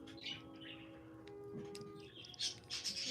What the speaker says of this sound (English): Hear my bird in the background?